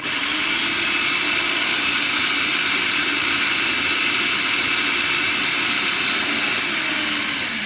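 Food processor grinding chunks of butternut squash, a loud steady whirring grind with no let-up from start to finish.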